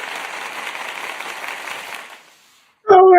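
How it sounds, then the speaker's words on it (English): Audience applause at a Seahawks vs Patriots Super Bowl LX preview show, a steady wash of clapping for about two seconds that fades out, followed by a voice speaking. "That gets an applause."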